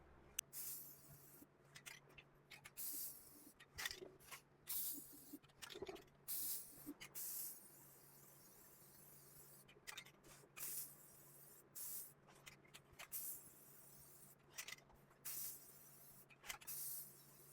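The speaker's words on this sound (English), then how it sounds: "I am going to go ahead and spray the inside first and then spray the outside" Spray paint hissing inside a hollowed jack-o'-lantern pumpkin, a string of short close bursts repeated in a steady stop-start rhythm over a quiet background.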